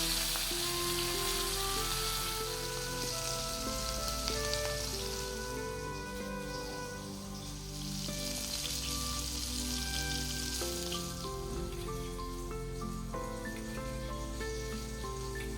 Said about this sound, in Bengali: এটি হয়ে গেলে আমরা মাছটা ভেজে নেব।